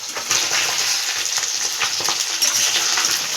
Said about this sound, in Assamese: মাছখিনি আধা ভাজা হৈ আছে।